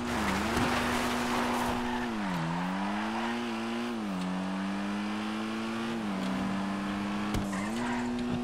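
Car driven in GTA 5 roleplay with a steady engine drone that rises and falls through gear changes, a sustained tonal hum with brief tire noise, heard alone at close range for the whole stretch.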